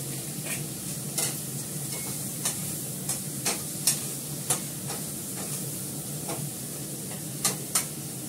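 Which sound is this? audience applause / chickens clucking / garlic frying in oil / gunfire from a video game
garlic frying in oil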